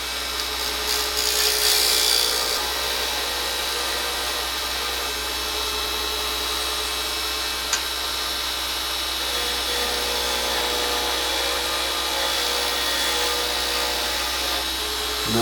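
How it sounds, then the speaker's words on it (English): Parting or skew chisel barely touching a pen blank spinning on a small pen lathe, a steady high whirring hum with fine scraping texture, close and continuous, with no talk. "Take the parting or skew chisel again."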